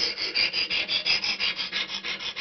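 A folding knife blade is sharpened with a Lansky guided rod system, a close, rhythmic rasping of the stone sliding back and forth along the blade, about a dozen even strokes with no talking.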